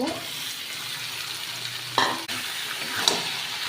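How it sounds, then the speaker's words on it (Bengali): Bombay duck fish stirred and fried with vegetables and spices in a pan, with a steady sizzle, a sharp scrape of the spatula near the middle and another stirring clatter shortly after. "লোটে মাছটা দিয়ে ভালো করে কষিয়ে শুকনো শুকনো করে ফেলবো"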